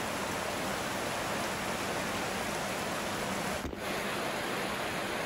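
Steady, dense rain drums on the tin roof of a village house, a continuous broadband hiss that briefly dips for a moment before resuming, with no voices.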